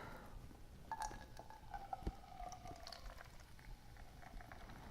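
Coke pouring into a glass, a steady low fizzing and trickling stream that runs quietly for several seconds with soft bubbling crackle throughout, no voices.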